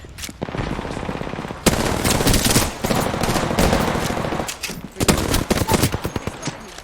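Loud automatic gunfire from the battle royale game Apex Legends, dense rapid bursts rattling almost without pause, with a short break near the middle before more volleys.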